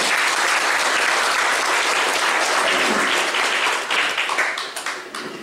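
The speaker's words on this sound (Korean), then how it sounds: "다시 한번 큰 박수로 환영합니다" An audience at a lecture on rule-of-law democratization and police investigation reform breaks into loud, sustained applause that fills the room, then begins to taper off into scattered claps at the end.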